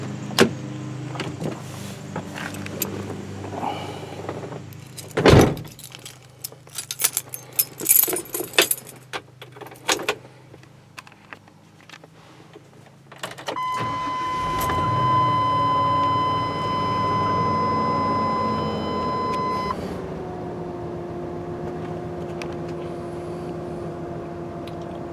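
Keys jangle and clatter in a 2009 Ford Crown Victoria P71 before its engine cranks and catches, settling into a smooth, steady idle hum that holds, then softens slightly toward the end.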